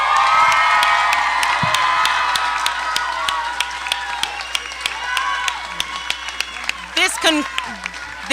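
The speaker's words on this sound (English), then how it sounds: "Please give one more round of applause to the class of 2022." A graduation ceremony audience for the class of 2022 claps and cheers in a loud, sustained burst, with scattered whoops and children's shouts rising near the end as voices chatter through the crowd.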